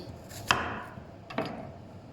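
Two sharp knife chops through green onions on a cutting board, spaced about a second apart, close and crisp against a quiet background.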